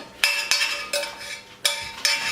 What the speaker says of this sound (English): You just want to pour it in there and scrape any excess that you can out of the pot.